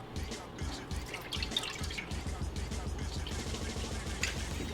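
Coconut milk glugging and splashing into a pan for a coconut curry chicken, a close, continuous liquid pour with dripping and bubbling texture.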